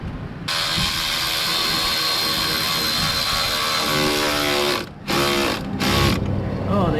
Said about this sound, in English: Oh, the engine's gonna be happy to have boost again.